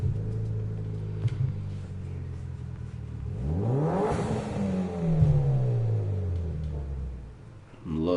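A Mitsubishi Lancer Evo IV engine in Gran Turismo Sport revs up and down in a rising and falling sweep, with a low rumble underneath and faint background sound.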